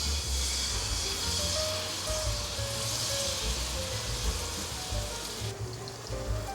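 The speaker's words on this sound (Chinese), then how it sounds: "再来煎第2片，锅内再补一些油，油有微热就可以放进来了" A cabbage pancake fries in a pan of freshly topped-up, warm oil, giving a steady, fairly quiet hiss and crackle that runs evenly throughout with no speech.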